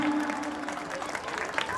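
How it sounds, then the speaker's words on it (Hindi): A crowd at a stage event applauds loudly, a continuous wash of clapping that holds steady with a faint tonal hum underneath. "माता जी के लिए, जोरदार तालियां"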